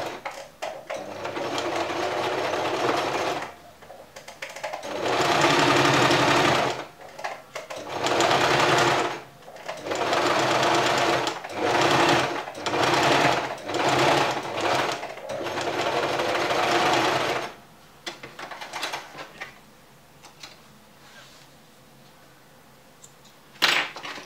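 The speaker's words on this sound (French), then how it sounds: "Après là, nous allons coudre à 1 cm du bord. Donc nous allons surpiquer." A sewing machine topstitches fabric 1 cm from the edge while finishing a French seam, running in loud bursts separated by short pauses, then falling quiet near the end.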